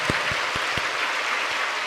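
A church congregation clapping together, a dense, even wash of applause from many hands that holds steady throughout the short stretch.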